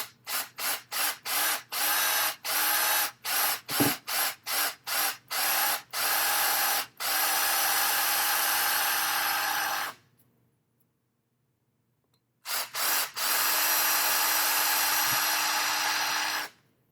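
A power drill whirs in a quick series of short bursts while drilling a spot for a magnet, then runs in longer sustained stretches separated by a brief silence.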